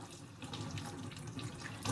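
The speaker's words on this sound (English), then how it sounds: "Wash the papaya under running cold water." Cold tap water runs steadily over a papaya held under the faucet, a close, even splashing stream with no talk.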